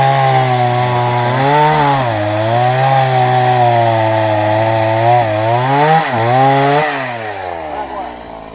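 Chainsaw cutting through a log of jatobá hardwood outdoors, a loud, close, sustained engine whine that dips in pitch as the chain bites and rises again, tailing off at the end.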